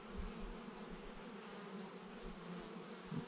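Honey bees buzz at an open hive in a dense, continuous hum that stays steady and close with no voices.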